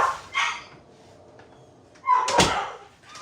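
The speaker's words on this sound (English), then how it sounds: "now the dogs are going to start barking." Dogs barking indoors nearby, a short bark followed after a pause by a louder burst of barking, loud and close with no talk.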